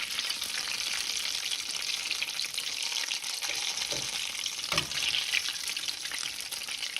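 Eggplant fritters sizzling in a frying pan, a steady close hiss of hot oil with a couple of soft clinks or thumps partway through, no talking.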